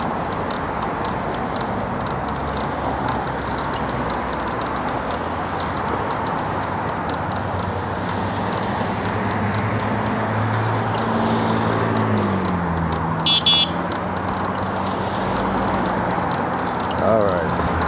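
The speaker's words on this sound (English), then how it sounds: "A lot of traffic." Steady road traffic in Las Vegas at rush hour forms a continuous roar of passing cars, with one engine note sliding down in pitch partway through and a brief metallic rattle near the end.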